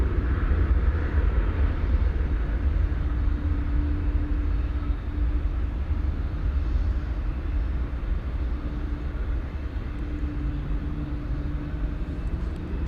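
Steady, loud jet rumble from an Airbus A319 at DFW Airport, heard from a distance as a continuous roar with low droning tones that holds unbroken throughout.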